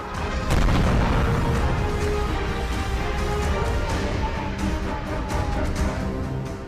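Heavy rumbling blasts from Israeli bombing in southern Lebanon, dense and loud throughout, with deep low booms and crackling bursts rolling continuously without a break.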